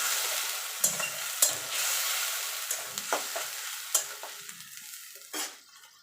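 Ginger, garlic and tomato paste sizzling in a hot pan while fish curry is being cooked, a steady loud frying hiss broken by sharp scrapes and clinks of a spatula stirring, fading slightly at the end.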